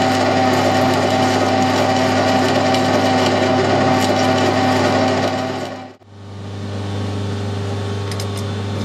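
A lathe runs steadily while knurling the shaft of a custom air rifle bolt, giving a loud, constant machine drone with a tonal hum. It drops out briefly near the end and then resumes, with no talking.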